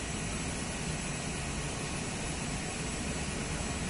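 A steady aircraft engine drones on without a break in Microsoft Flight Simulator 2024, a broad, even roar holding at a constant level throughout with no voices over it.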